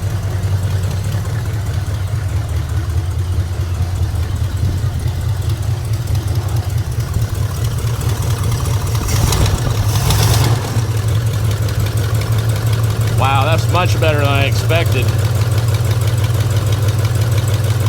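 A 1972 Chevrolet El Camino, flood-damaged by Hurricane Milton and carrying an exhaust leak, idles with a steady, deep, even rumble throughout, close and loud, while a person briefly speaks over it.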